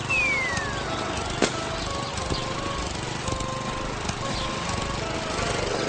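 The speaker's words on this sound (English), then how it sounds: "Lawnmowers make a lot of air and noise pollution." A gasoline lawn mower engine runs steadily at close range, a loud continuous droning buzz with a slight rise and fall in pitch and no voices over it.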